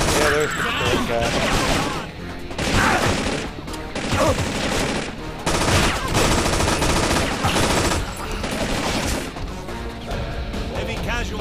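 Enemy gunfire in the video game Infernal, rapid bursts of automatic weapons crackling almost nonstop, loud and close, with dense battle noise layered throughout.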